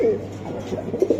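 Racer pigeons at a sale give low, throaty coos close by, a soft rolling call at the start and again near the end, with a faint voice in the background.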